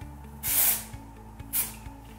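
Two short hissing bursts of an aerosol spray, the first longer than the second, close to the microphone over faint background hum.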